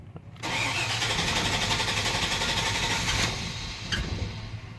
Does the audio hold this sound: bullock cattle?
no